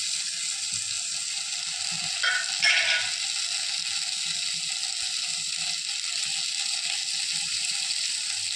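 Onion and blended medium-sized tomato frying in a pan, a steady close sizzle and crackle throughout, with a brief louder splash of hissing as the tomato hits the hot oil.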